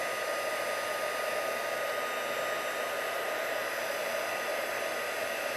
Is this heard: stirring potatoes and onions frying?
no